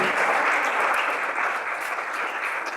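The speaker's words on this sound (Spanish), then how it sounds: "Denle un fuerte aplauso al Señor." Worshippers at a church service clap together in a strong burst of applause that starts full and gradually thins out slightly toward the end.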